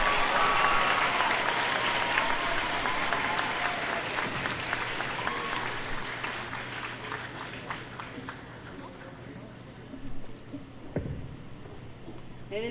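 A graduation ceremony audience in Belmopan applauds in a sustained, dense wash of clapping that slowly thins toward the end, with some murmuring voices mixed in.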